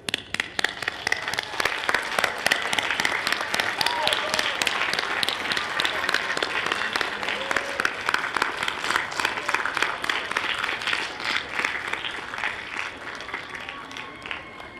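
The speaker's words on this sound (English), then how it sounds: "I ask that you join me in standing up and applauding them for their support of you" Steady, dense applause from a commencement crowd of sociology graduates clapping for their families, sustained and even across the whole stretch, with a faint murmur of voices underneath.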